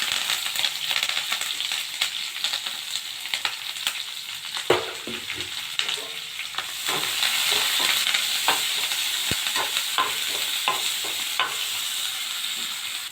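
Garlic, dried red chilies, onion and curry leaves fry in a pan for tamarind rice, giving a steady close sizzle broken by scraping stirs and small clicks throughout.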